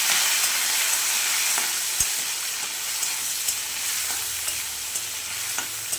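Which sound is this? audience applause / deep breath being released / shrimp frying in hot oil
shrimp frying in hot oil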